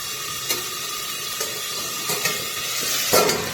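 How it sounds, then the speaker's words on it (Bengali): Fish head curry masala is stirred with a spatula in a pan, the metal scraping in a few distinct strokes over a steady close sizzle. "খুন্তি দিয়ে এইভাবে ভালো করে নেড়ে চেড়ে নিচ্ছি"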